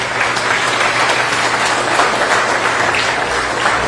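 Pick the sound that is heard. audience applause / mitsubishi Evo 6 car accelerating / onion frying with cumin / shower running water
audience applause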